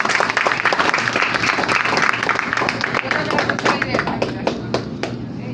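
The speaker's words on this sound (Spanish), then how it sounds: "otra vez un aplauso para los muchachos" Audience applause for students after their final presentation in an intensive care course, a steady dense clapping that fills the whole clip with voices mixed in.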